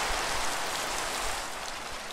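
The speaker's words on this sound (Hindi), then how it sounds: "बार बार मैं जब भी ये चीज़ कर रहा हूँ बार बार बारिश हो जा रही है" Steady rain pours in the video game Minecraft, a dense, even hiss of falling drops with no voices over it.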